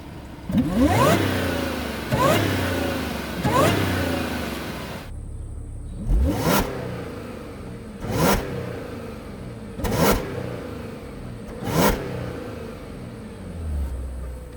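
An Audi A6 Quattro 3.0T supercharged sedan driving, its engine repeatedly revving up in strong accelerating bursts about every two seconds over a lower rumble, loud and close, no talk.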